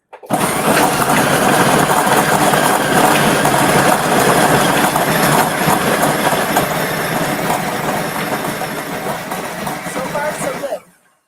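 A Ninja XL Professional food processor runs on low, a loud, steady motor whir with grinding and rattling from the chopped contents, holding constant for about ten seconds before cutting off abruptly.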